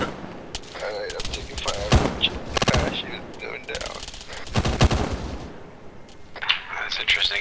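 Bursts of automatic and single-shot gunfire from the military video game Arma during an armor hunt, loud and close with repeated volleys and rattling machine-gun fire; someone speaks briefly over it.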